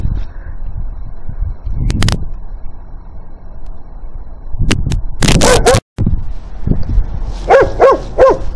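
A livestock guardian dog barks in a few loud, close bursts with yelps and whimpering between them, over a steady background hum, with no talking.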